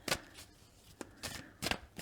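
Cards from a plant-advice oracle deck are handled and drawn, giving a few quick papery riffles and slides close by, short bursts separated by brief quiet gaps.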